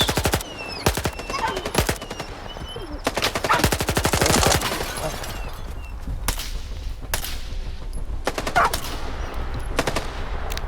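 Bursts of automatic gunfire and single shots from the video game S.T.A.L.K.E.R. 2, sharp rapid cracks in several clusters spread across the stretch, loud and close with no talking over them.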